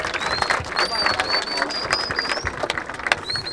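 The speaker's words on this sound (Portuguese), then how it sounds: "Palmas, família, palmas!" Crowd clapping at a rap battle in Barueri, São Paulo, a dense, steady burst of applause with scattered cheers and whistles and a voice calling out over it.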